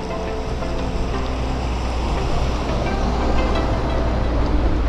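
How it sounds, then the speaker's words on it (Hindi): Water pours over the Sasoi dam near Jamnagar, Gujarat, as a steady, loud, broadband rush that swells slightly toward the end, heard alone with no talk. "फिलहाल ऊपर से पानी जा रहा है।"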